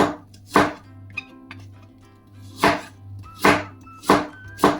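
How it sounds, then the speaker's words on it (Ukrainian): A knife chops through apples on a cutting board, several sharp, crisp strikes coming at an uneven pace with short gaps between them. "вирізаю серединку та нарізаю шматочками"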